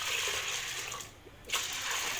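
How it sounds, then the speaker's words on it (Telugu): Toor dal (pigeon pea lentils) being washed in water: close splashing and sloshing with a short lull, then a renewed swish of water, no voices. "కంది బ్యాళ్ళు 2 సార్లు క్లీన్గా కడుక్కొని"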